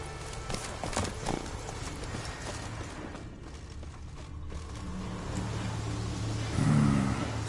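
Roach, a horse in The Witcher video game, gallops with steady rhythmic hoofbeats close by over a continuous outdoor ambience.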